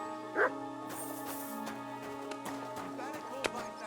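A dog in the Kingdom Come: Deliverance 2 video game gives a few short barks and yips amid ambient game sounds and music-like tonal layers.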